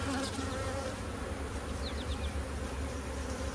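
A steady, moderately quiet hum of many bees buzzing around an open hive, continuous and close, with a few individual insects droning past nearer by.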